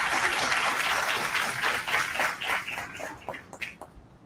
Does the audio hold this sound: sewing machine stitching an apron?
no